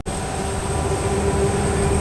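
A Vistadome coach train pulls out of Mangaluru Junction with a steady, close rumble of wheels and carriage and a thin high whine riding on top, continuous and without talk.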